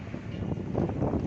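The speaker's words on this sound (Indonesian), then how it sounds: "Angin besar sekitar Pondok Ungu Permai, sekitar Marrakas, sekitar Pospol Pondok Ungu Permai" Strong gusting wind during a rainstorm in a residential area of Pondok Ungu Permai, Babelan, Bekasi, a steady broadband roar with rushing rain noise, loud and continuous throughout.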